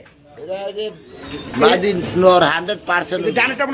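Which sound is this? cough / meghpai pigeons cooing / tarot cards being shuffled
meghpai pigeons cooing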